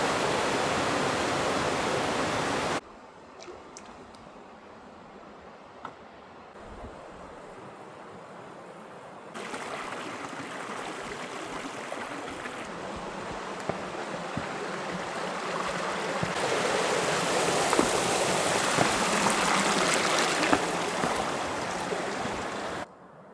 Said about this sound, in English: the little waterfall here is just beautiful, streaming down through